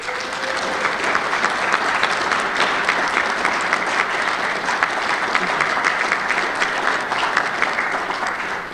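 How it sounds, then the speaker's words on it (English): Sustained applause from a conference audience at the 2013 ADAO opening session as the sponsors stand. It is dense, steady clapping that fills the hall and holds an even loudness for the whole stretch, with no voices over it. "give them a round of applause"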